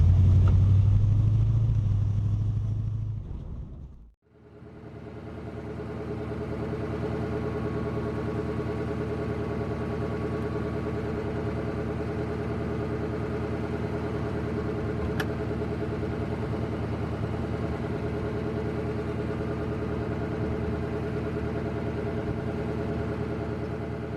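A 1969 Ford Mustang convertible engine settles into a steady, low idle after a loud rumbling burst at the start, running evenly and alone at moderate distance.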